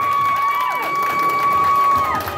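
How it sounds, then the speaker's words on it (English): Convention audience at an anime-themed Who Wants to Be a Millionaire game show cheers and claps, a loud mass of whoops and shouts over clapping, with a steady tone running underneath. "Give a round of applause one more time."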